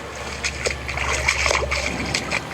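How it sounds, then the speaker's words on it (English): Water splashing from swimming strokes and kicks, soft irregular splashes and ripples at moderate distance over a steady low background hum, with no voices. "The sounds of splashing"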